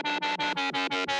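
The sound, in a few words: chorus and distortion effects on a drum and bass synth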